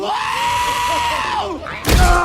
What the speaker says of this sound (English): They also scream quite a lot.